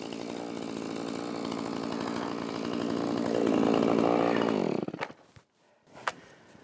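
A battery-powered chainsaw runs with a steady, loud buzzing whine on an off-grid homestead in northern Canada, then cuts off abruptly and leaves a few faint clicks and handling noises.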